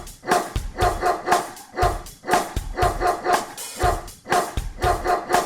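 A farmer's dog barks in a children's nursery rhyme, with loud, close barks repeating in quick rhythmic bursts over several seconds.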